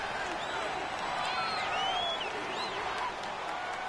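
Stadium crowd roar in a PS4 football video game, a steady loud wash of cheering and noise from a home crowd, with whistle-like tones rising over it and no break throughout.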